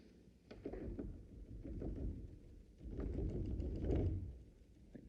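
A low, distant rumble of thunder in Los Angeles rolls in and swells twice, faint and muffled with no voices.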